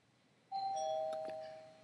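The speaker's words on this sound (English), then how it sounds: "Oh, there's the doorbell." A single electronic doorbell chime rings out clearly in a quiet room, its tone holding and slowly fading.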